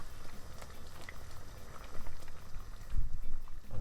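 A Jamaican pepper pot soup with coconut milk simmers in a pot, giving a steady low bubbling and gurgling that runs through the whole stretch with no voices, swelling slightly near the end.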